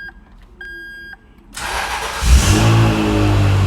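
A few electronic beeps, then a Ferrari 360 Spider's engine cranks and catches, settling into a loud, steady idle with a brief rev.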